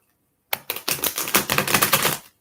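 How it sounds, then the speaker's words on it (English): A Gilded Tarot card deck gets riffle-shuffled close by, a quick burst of rapid papery clicks and flutters lasting about two seconds, alone in a quiet room. "let's give him a couple good shuffles"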